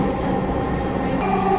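A Dhaka metro rail train runs along the line heard from inside a carriage, a loud, steady rumble and wheel roar with a faint high squeal toward the end.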